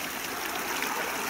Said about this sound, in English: water from the stream